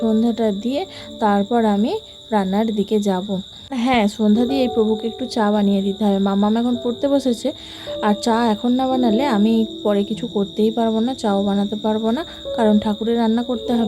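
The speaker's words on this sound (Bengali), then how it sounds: "বর্ষাকাল আর এডিট করছি সন্ধ্যাবেলা ঝিঝির ডাক আসছে" Crickets chirp on a monsoon evening at a village home, a constant high-pitched drone running beneath someone talking almost continuously.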